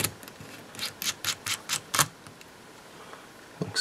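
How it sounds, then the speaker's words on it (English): Small screws are backed out of an iPhone 6 Plus back cover, a quick series of close, crisp clicks and scrapes from a small screwdriver, pausing briefly before one more click at the end, with no talk. "I'm gonna take off the screws that hold the back cover in place."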